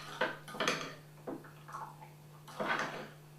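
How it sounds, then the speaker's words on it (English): A spoon scrapes and clinks against a bowl while caster sugar is stirred into lemon juice for a lemon cake glaze, giving a few separate close bursts of stirring with short pauses between them. "So I'm going to add the rest of my caster sugar and stir it in"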